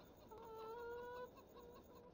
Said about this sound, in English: those chickens are loud, aren't they?